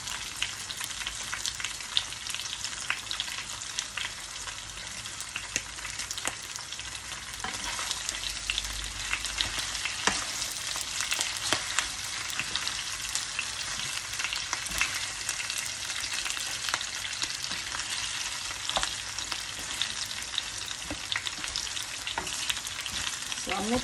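Chopped lechon for paksiw frying in a pan, with a steady dense sizzle and crackle and occasional scrapes and clinks as it is stirred, close and continuous throughout with no talking.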